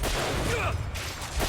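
Rapid turret gunfire in Bioshock Infinite, a dense, steady fusillade of shots filling the short stretch at close range.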